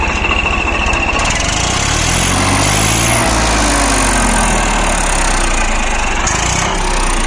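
A tractor engine fitted with a turbo whistle revs hard and close, its loud rumbling drone rising and falling under a thin, high whistling tone that climbs in pitch as the revs build.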